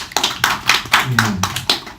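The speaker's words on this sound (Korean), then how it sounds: "박수 한번 쳐주세요" Several hands clap in a sparse, uneven rhythm at a press conference in a church centennial memorial hall, brief and fairly close, with voices talking over the claps.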